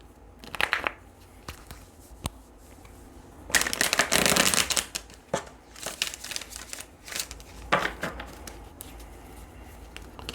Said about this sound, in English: Let's go ahead and pull some tarot and see what the tarot has to add for you.